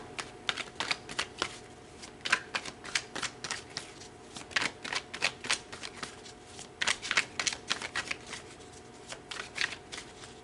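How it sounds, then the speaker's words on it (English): Tarot cards are shuffled by hand in repeated crisp riffling bursts, close and clear, with short pauses between runs and no talking. "All right, let's pull some more tarot."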